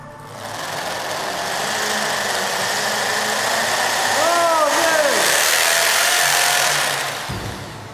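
A steady mechanical whirring and grinding runs continuously for several seconds, close and loud, with a brief rising whine near the middle.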